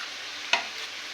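Fig fritters fry in hot oil with a constant hissing sizzle, broken by a single sharp spoon tap midway.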